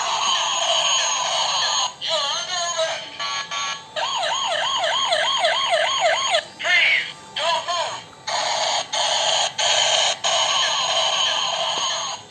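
A white toy police car blares a loud electronic siren that warbles and wails in rapid repeating sweeps, broken by short pauses and shifting patterns, with no other sound competing.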